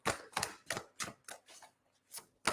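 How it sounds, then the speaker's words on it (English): Crisp, rhythmic riffling of playing cards, about eight quick bursts close by, quiet and without any talking. "Now, I'm just giving these cards a good shuffle."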